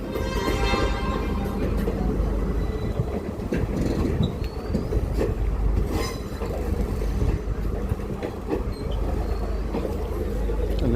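Train rolling slowly past at night in Ella, Sri Lanka, a loud, continuous rumble with clanking wheels and occasional squeals close by, while people talk over it.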